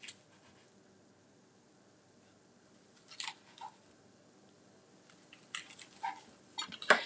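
Knife cutting cassava tortillas for salmon pinwheel canapés: a few crisp slicing crunches at close range, spaced apart over a mostly quiet background.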